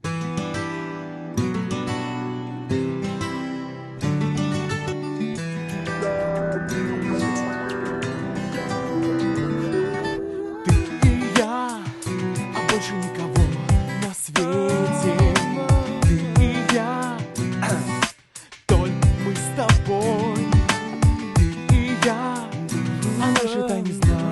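An improvised backing vocal line, loosely sung, plays over a backing arrangement, continuous and fairly loud, with a brief dropout near the end.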